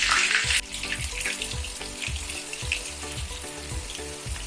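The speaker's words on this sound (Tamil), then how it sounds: "பாருங்கள் இப்போ மீல் மேக்கர் பொறிஞ்சிச்சு நம்ம எடுத்துடலாம்" Soya chunks (meal maker) frying in hot oil, a steady bubbling sizzle with rhythmic clinks of a ladle stirring, heard close without talk.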